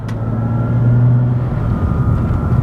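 BMW 3 Series convertible with a manual gearbox, its engine droning at a steady mid-pitched hum from inside the cabin, a smooth continuous tone that swells slightly then settles, with no talk.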